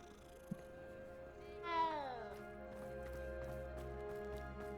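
A single clear meow from a cat in Hogwarts Legacy, rising then gliding downward, heard alone over quiet game ambience with a small tap just before it.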